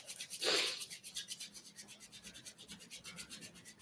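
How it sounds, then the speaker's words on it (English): A pair of hands rub briskly together, a rhythmic swishing friction of palms repeating about four times a second, close and soft with no talk. "Maybe we're actually going to start by rubbing our hands together"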